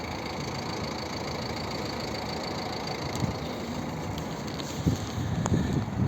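A 2011 Volvo V50 with a 1.6 diesel engine idling, heard from the exhaust, a steady low rumbling chug that runs evenly, with a few bumps of handling noise near the end.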